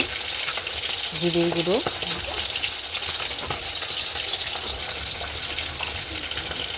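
Steady, loud sizzling of spices in a little hot oil in a wok throughout, with a brief spoken phrase over it and occasional stirring clinks.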